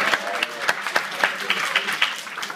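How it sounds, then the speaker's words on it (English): A room full of people at a training night claps in a brisk, continuous round, individual sharp claps punctuating the dense patter throughout, with faint voices underneath. "Give her a hand, please."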